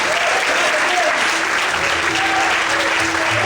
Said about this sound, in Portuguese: Você pode aplaudir e glorificar o nome dele.